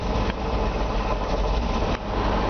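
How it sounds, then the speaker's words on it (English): A 2002 GMC forestry bucket truck idling, a steady low engine rumble close by with two brief dips in level and no talking. "I'm going to fire this truck up for you"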